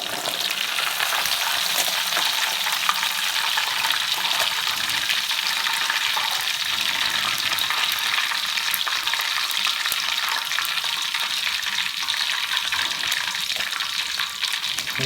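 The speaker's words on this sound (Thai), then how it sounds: "ทอดไปเรื่อยๆนะครับจนกว่ามันจะสุกครับ" Tilapia frying in a pan for chu chee curry gives a loud, steady, close sizzle with crackling that runs unbroken throughout, with no voices.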